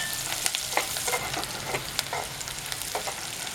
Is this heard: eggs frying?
yes